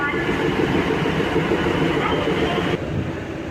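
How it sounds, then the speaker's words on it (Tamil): An 8-coach DEMU diesel-electric multiple unit train runs on a Southern Railway line in the Tiruchirappalli division, a steady, loud, close rumble with rhythmic rail clatter that drops slightly in level near the end. "இது பார்த்திங்கன்னா ஒரு 8 கோச் டெமோ ஆப்ரேட் ஆகிட்டுருக்கு"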